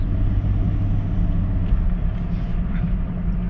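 A Ford Expedition engine runs steadily with a newly replaced throttle body, giving a continuous loud low rumble that holds even for several seconds with no clear rise or fall in pitch.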